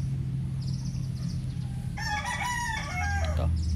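A sweater gray gamecock rooster crows once, loud and close, a strained multi-part call in the second half of the clip over a steady low farmyard hum.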